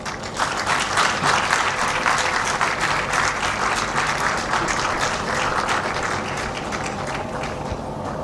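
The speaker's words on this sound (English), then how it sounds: "Let's have a big round of applause" A large audience at a national safety convention breaks into sustained, dense applause, loud and steady for several seconds with no voices standing out.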